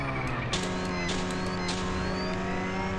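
A sedan accelerating on nitrous boost, its engine holding a loud, continuous roaring whine that steps up in pitch with a few sharp surges, close and steady throughout with no talking.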